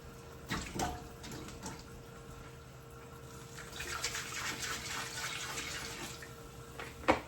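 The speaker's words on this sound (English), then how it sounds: "Make sure you give everything a really good wash before you put them in your stock pot." Vegetables washed under a running tap for a bone broth stock pot make a steady splashing stream. The sound is close and moderately quiet, with occasional louder sloshes and a clunk near the end, and no speech.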